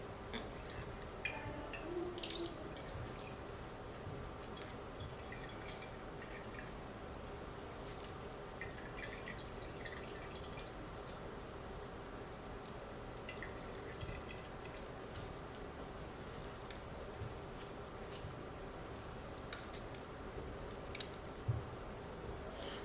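Homemade oat milk drips steadily through cheesecloth, a faint, continuous patter of small liquid drops with occasional ticks, heard alone and close with no talking.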